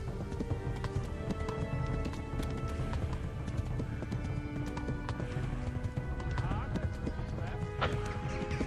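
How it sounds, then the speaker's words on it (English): Rapid, steady clip-clop of a galloping horse in the medieval video game Kingdom Come: Deliverance, hoofbeats driving continuously under ambient game sounds and occasional talk. "And my horse is nearly puffed again."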